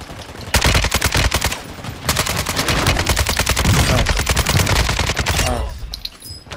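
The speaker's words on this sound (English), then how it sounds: "I'm shooting them through this fucking van, that's insane." Rapid, loud automatic gunfire in Modern Warfare 2 rattles in long, dense bursts of close shots, with rounds fired through a van, and the firing trails off near the end.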